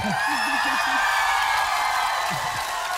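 A television talent-show audience at X Factor 2017 applauds and cheers in a dense, continuous wash of crowd noise, with a voice speaking briefly over it at the start and again near the end.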